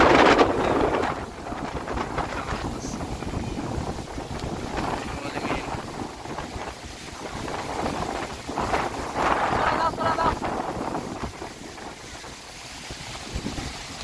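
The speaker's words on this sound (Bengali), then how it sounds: "নৌকা জোড়ো হাওয়ায় বয়ে যাচ্ছে।" Strong wind roars steadily around a boat out on the water under a stormy sky, a continuous broadband rush with gusts swelling and easing, loud and close to the microphone.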